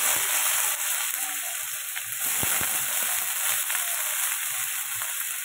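Washed vegetables frying in a pan, a continuous even sizzle and hiss at close range with faint scattered clicks beneath, steady throughout.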